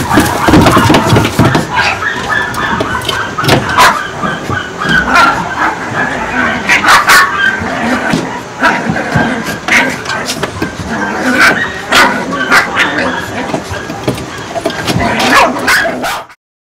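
Many frightened dogs rescued from a puppy mill bark, yip and whimper together at close range, a dense continuous chorus of overlapping barks with sharp peaks throughout and no speech.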